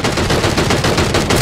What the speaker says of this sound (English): When I hear the gunshots, I spring into action to try and help him out.